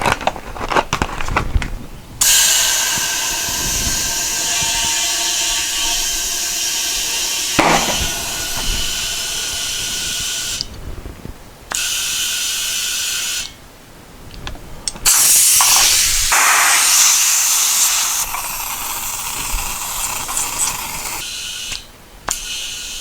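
Air hissing loudly and steadily into a dune buggy tire being mounted on its rim, broken by a few sharp pauses and a burst near the end as the bead seats, with no talking.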